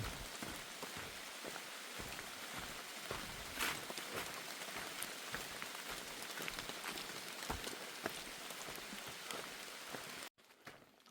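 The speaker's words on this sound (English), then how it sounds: "it definitely started raining pretty damn good" Steady rain keeps pattering on surfaces along the Appalachian Trail in North Carolina, hissing close and constant with scattered heavier drops, then cuts off abruptly near the end.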